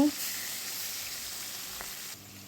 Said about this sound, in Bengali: এই যে মাছ দুবার ভেজে নিচ্ছি